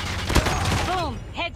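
A brief burst of video game gunfire sounds at the moment of a headshot, while a voice talks over it loudly and close.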